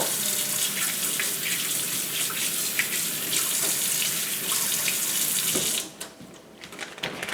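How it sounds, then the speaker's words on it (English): Kitchen tap running steadily as hands are washed under it while processing Egyptian walking onions, a close, loud rushing splash of water that cuts off near the end, leaving a few faint drips and clatter. "Let me wash my hands."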